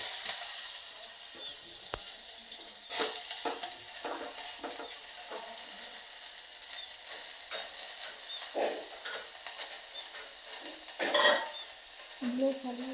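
Chopped onion sizzles and fries in a pan, with a steady hiss broken by repeated scraping stirs of a spoon, close and without talk.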